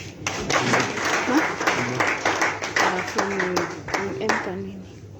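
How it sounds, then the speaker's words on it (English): An audience claps for a speaker at a youth peace and tolerance gathering in Zimbabwe, with a dense run of hand claps close by and voices talking over it throughout. "Let's clap hands for him."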